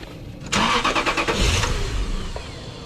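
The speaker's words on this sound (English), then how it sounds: "Start the car." A Lexus SC430 car engine cranks and catches after an alternator replacement, turning over with a rough burst before settling into a steady, close idle.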